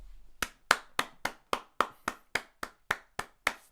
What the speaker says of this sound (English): I gotta give you a round of applause right there